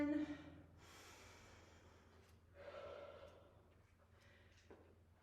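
Heavy panting after a HIIT round: faint, ragged breaths with a few sharp gasps and exhales spread over several seconds, with no speech.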